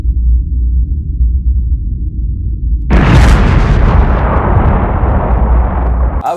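A huge explosion effect meant as the Earth blowing up: after a low steady rumble, a sudden loud blast bursts in and continues as a dense, roaring wall of noise to the end.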